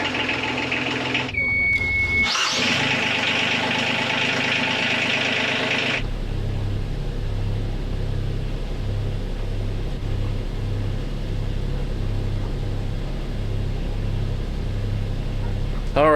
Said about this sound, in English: Ran the engines at like 16 to 1800 RPM, somewhere in there, for an hour and change.